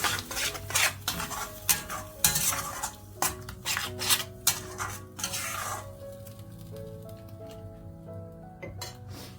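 Arbi (taro) curry with tomato is stirred in a pan, with a rapid series of close metallic spoon scrapes and clinks over a faint sizzle, slowing toward the end.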